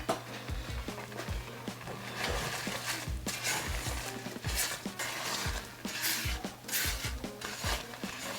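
Semolina roasting in ghee in a pan for suji halwa, with soft repeated scraping and stirring strokes and a faint sizzle underneath, close and quiet.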